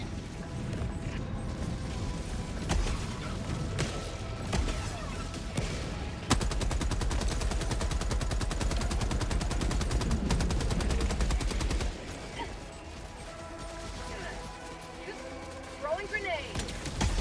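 Helldivers 2 combat, where a deployed sentry gun fires long, rapid mechanical bursts. A steady machine-gun stream dominates the middle stretch, framed by scattered shots, clanks and explosions, all loud and close.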